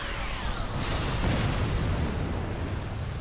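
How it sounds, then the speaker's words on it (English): A single muffled, rumbling boom from an Explosion move in a Pokémon battle video game swells and fades within a few seconds over a steady noisy background. "Explosion."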